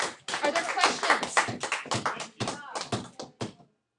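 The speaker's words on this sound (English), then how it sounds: "Everybody give Thane a round of applause." Classmates clap for a student in an algebra classroom, a dense burst of close hand claps lasting a few seconds before fading out, with no talk over it.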